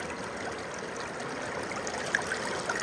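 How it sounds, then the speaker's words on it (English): Water rushes steadily through a gold mining sluice box outdoors in southern Oregon, a continuous close stream and trickle with a few faint higher splashes. "since I had to adjust the sluice box to get more water flow"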